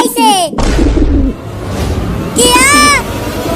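A pigeon caught by a cat, with frantic wing flapping and rustling beneath loud, excited voices that repeatedly imitate the bird's cooing.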